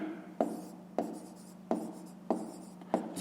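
Pen or chalk writing by hand during a fifth-grade math lesson: five distinct, evenly spaced scratchy strokes, each a sharp tap trailing into a brief scrape, close and fairly quiet, with no talking.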